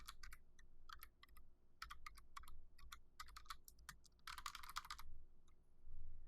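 Quick, irregular clicks of keys being pressed on a computer keyboard as a short field label is typed in a quiet room.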